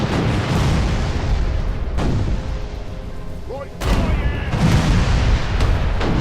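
Galleon cannons firing in the naval video game Furious Seas, loud booming blasts with a gap between them and a steady low rumble of sea and engine underneath.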